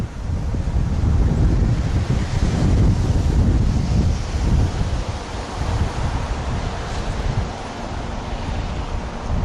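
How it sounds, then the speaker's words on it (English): Strong gusty wind roars steadily against the microphone during a wet winter storm near Mount Rainier, with a rushing, stormy rumble throughout and no voices. "it's one wet, windy day out here"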